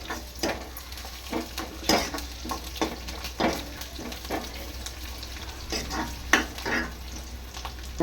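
Curry leaves and green chillies fry in hot oil for carrot rice, giving a continuous sizzle with intermittent stirring scrapes and clinks of a spoon against the pan, close and moderately loud.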